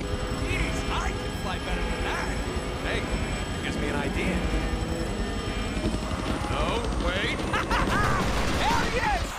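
A helicopter's rotor chops steadily and loudly throughout a scene in the Deadpool video game, with gunfire bursts and a voice speaking over it.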